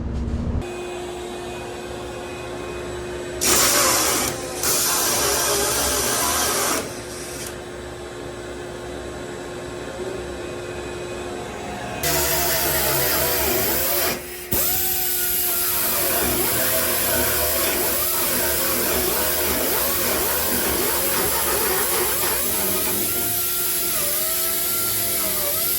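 Power tool cutting a large hole for a shaft log in the hull of a boat being repowered, a loud sustained grinding drone that stops and restarts several times, close and continuous over about twenty-five seconds.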